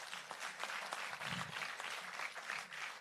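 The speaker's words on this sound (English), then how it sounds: "Clap for yourselves." An audience at a skill center commencement ceremony claps steadily for three seconds, a dense, continuous applause with no voices over it.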